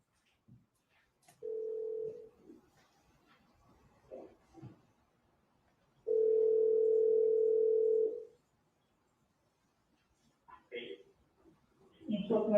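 A recorded phone call plays back its tone: two steady, sustained beeps separated by a pause, with faint murmuring and shuffling in between and a voice starting at the end.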